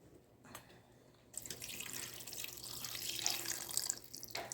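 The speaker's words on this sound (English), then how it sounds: "And then I'm going to add some water to it and allow it to cook for another" Tap water runs into a cooking pot of goat meat stew, starting with a few faint drips and then a steady, close pour that grows slightly louder over several seconds.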